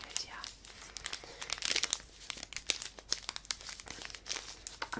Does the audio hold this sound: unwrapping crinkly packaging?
yes